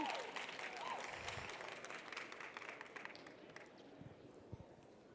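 Audience applause at a social media masterclass Q&A: a roomful of people clapping, loud at first, then thinning out into scattered claps over a few seconds.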